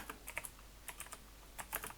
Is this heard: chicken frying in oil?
no